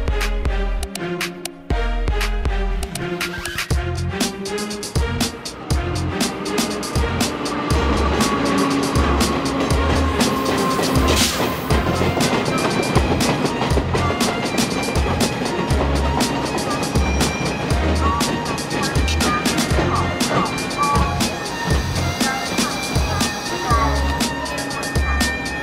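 A train with worn steel wheels rolls past loud and close, its wheels thumping on the rails in a steady rhythm over a dense rumble, with a voice talking over part of it.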